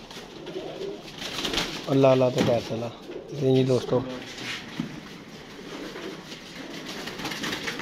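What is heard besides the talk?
pigeons cooing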